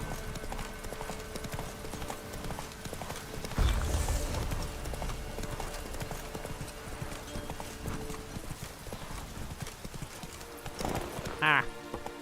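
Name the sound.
horse galloping in The Witcher 3 video game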